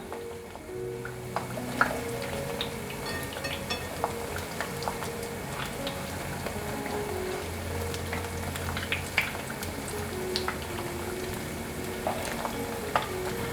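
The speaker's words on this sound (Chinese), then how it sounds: "放进锅里面炸。 先炸4个。" Four pieces of food deep-frying in hot oil in a wok, a steady close bubbling sizzle with occasional small crackles and pops running throughout.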